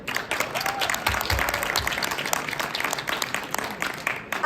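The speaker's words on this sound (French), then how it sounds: "j'aimerais qu'on les applaudisse" An audience at a Quebec novel awards gala claps for the nominated books, a dense, steady wash of many hands sustained at even loudness throughout, with a faint voice briefly audible beneath it.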